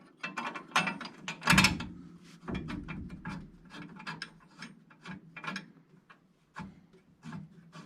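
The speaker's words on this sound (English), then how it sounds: "We'll put it on a ratchet and tighten." A ratchet tightens a 5/8 nut on the front disc brake parts of a 1974 MG Midget 1275, with quick bursts of clicking strokes, close and clear, separated by brief pauses and soft rubbing.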